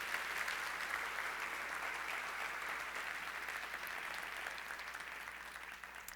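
A church congregation applauds during a sermon, steady diffuse clapping heard faint and somewhat distant throughout.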